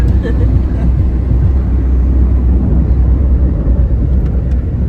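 A car cruising on the Samruddhi expressway from Mumbai toward Shirdi, heard from inside as a loud, constant low road and engine rumble, with voices mixed in.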